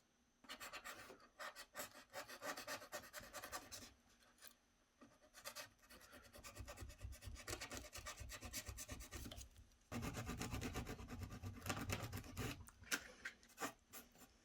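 A blade cuts and rasps back overhanging cork roadbed on an N scale model railway layout, in close bursts of scraping strokes with short pauses between them and a louder, heavier run near the end.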